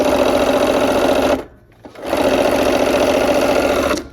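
A sewing machine stitches pieces of a Christmas quilt top in two loud, steady bursts of rapid whirring, separated by a short pause, with no talking.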